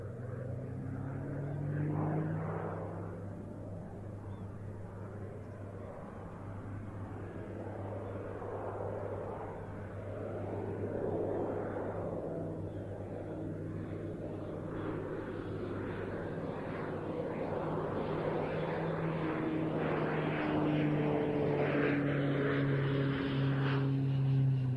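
Aerobatic aircraft flying manoeuvres at the RIAT airshow, a split S and a dirty roll with landing gear down, giving a steady loud engine drone with shifting pitch throughout, no talk.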